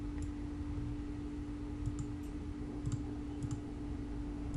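Soft, scattered clicks of a computer keyboard being typed on, a few light keystrokes at a time with short pauses, over a faint steady hum.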